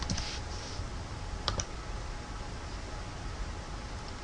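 Typing on a computer keyboard, a few soft clicks near the start and a brief clatter midway, faint against a steady background hiss, with no talk.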